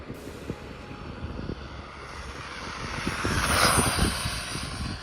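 Traxxas Rustler RC truck on a 2S shakedown run in chilly weather, its motor a steady buzzing whine that swells and grows louder as it speeds up, heard from a moderate distance outdoors.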